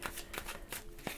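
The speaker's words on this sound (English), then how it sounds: "do a couple more shuffles" Tarot cards are shuffled by hand in a quick run of soft riffling flutters and taps, close and fairly quiet.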